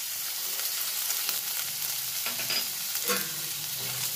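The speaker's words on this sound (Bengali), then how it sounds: "ভাজা পেঁয়াজ কুচিটা একটু নাড়াচাড়া করে নিয়ে এর মধ্যে আমি রসুনের কোয়াগুলো দিয়ে দেব।" Chopped onion and garlic cloves sizzling in a pan as they are stirred, a continuous hiss with scattered scraping and spatter, fairly soft and without talk.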